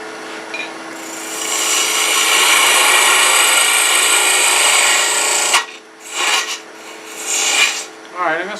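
A wooden Santa spun on a wood lathe and cut with a spindle gouge gives a steady, close rasping hiss that runs for several seconds, then breaks into shorter scraping passes with brief pauses between them.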